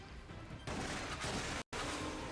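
Shotgun blasts in a Wii light gun game: dense, loud, noisy bursts fill the clip, cut by a brief dropout, with no talk.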